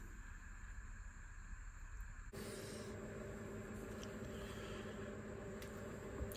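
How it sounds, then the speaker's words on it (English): An electric fan runs steadily in a cold workshop, giving a constant close whooshing hum that grows brighter and fuller partway through and then holds. No one speaks. "excuse the fan noise"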